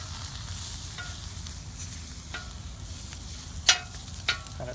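A spatula stirs food frying with onions on a hot surface: steady close sizzling with scattered scrapes and two sharper clanks of the spatula near the end.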